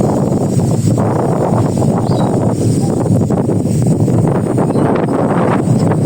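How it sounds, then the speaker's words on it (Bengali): Steady, loud wind from an approaching depression buffets the microphone throughout, a constant roaring rush with no pauses or voices. "কেমন বাতাস"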